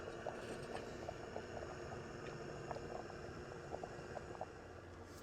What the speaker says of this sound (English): I love that sound, that little jet engine